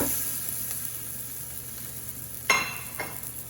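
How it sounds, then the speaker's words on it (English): A black bean burger patty sizzles on a Blackstone 17-inch E Series griddle, a steady close hiss with a sharp crackling burst as the patty lands. "So I'm gonna come along now and drop this patty on there."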